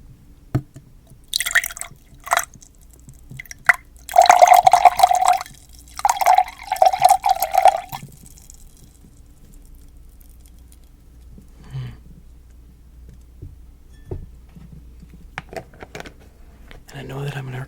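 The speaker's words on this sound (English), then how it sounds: "I'm going to pour a little bit of this into a glass." A drink poured into a glass, a few seconds of trickling liquid with bubbly dripping in two bursts, close and fairly loud, amid soft handling noises and quieter pauses.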